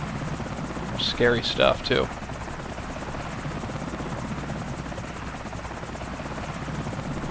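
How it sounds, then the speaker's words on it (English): A Blackhawk helicopter flies low to the ground in GTA IV. Its rotor gives a steady, loud, pulsing drone throughout, with a short stretch of talk near the start. "But you just kind of let that helicopter fly itself."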